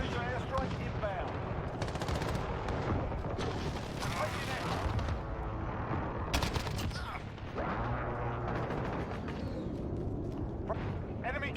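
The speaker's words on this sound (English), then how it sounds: "Friendly precision airstrike inbound." Dense, sustained gunfire and heavy blasts from a Modern Warfare match, with a precision airstrike called in, fill the whole stretch as one loud, continuous barrage of automatic fire and booms, while voices speak over it at times.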